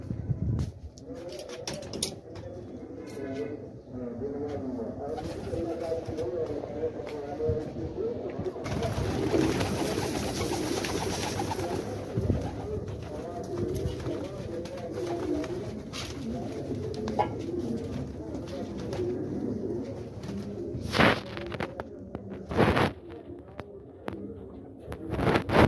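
Pigeons in a loft coo in repeated soft, throaty calls, close by and fairly loud, with wing flaps and rustling in places and someone speaking briefly.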